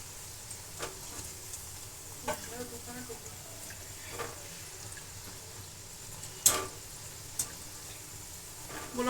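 Syrup-bound sweet dumplings bubble and sizzle gently in oil over a low gas flame. The hiss stays quiet and continuous, broken by a few brief clicks and a faint voice in the background.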